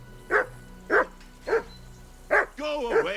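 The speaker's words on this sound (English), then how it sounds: "that barking's driving me nuts" A dog in Kingdom Come: Deliverance II barks four times in quick, evenly spaced bursts, then gives a longer whining yelp at the end, close and clear over quiet game ambience.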